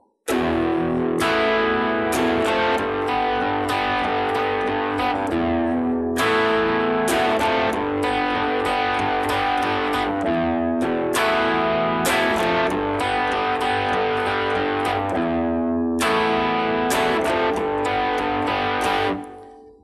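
A distorted electric guitar plays the chorus and prechorus chords of a song in strummed, rhythmic bursts with brief pauses between phrases, loud and close, with no voice over it.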